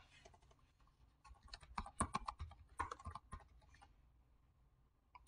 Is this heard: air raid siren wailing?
no